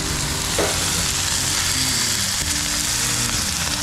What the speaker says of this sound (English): We're gonna get these on the grill.